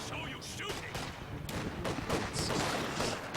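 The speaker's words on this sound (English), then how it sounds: "OMG Pop already has got 2 snipers just laying the heat on Cruz's rifleman" Sniper and rifle gunfire in a strategy video game match, sharp repeated shots crackling over busy battle noise and a commentator's voice throughout.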